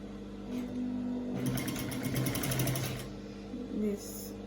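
Sewing machine stitching shirt fabric, a quiet rapid mechanical whirr in a short burst of about two seconds, with speech around it.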